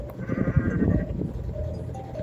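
A goat bleats in a wavering, nasal cry in the video game Goat Simulator, with a busy layer of game sounds and low rumble underneath.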